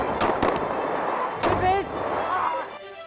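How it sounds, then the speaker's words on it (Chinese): Gunfire during a police shootout with a drug-dealing suspect in Kaohsiung County: several sharp, close bangs in quick succession, mixed with shouting voices. "嫌犯真歹直接开枪。"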